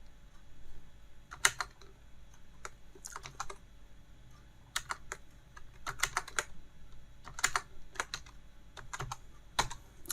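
Someone types a line of text on a computer keyboard in irregular bursts of crisp key clicks separated by short pauses. The sound is close and fairly quiet, with no talk.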